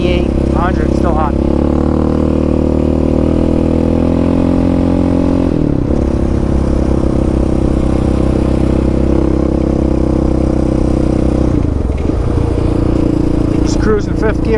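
A Yamaha Raptor 700R SE ATV engine cruises steadily in fifth gear on a hot road home from the mountains, a loud continuous mid-pitched drone with wind rush, and a voice speaks over it.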